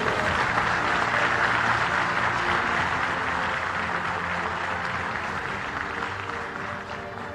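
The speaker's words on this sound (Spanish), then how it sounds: "eso merece un fuerte aplauso." Sustained audience applause at an event launching the Dominican Republic's country brand strategy in the United States, a dense, steady wash of clapping that holds loud throughout and eases slightly toward the end.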